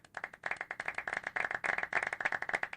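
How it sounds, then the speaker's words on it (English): A small group clapping fast and sharply in rapid, uneven bursts, each clap distinct and close, with no talking. "Everybody clap and shout right,"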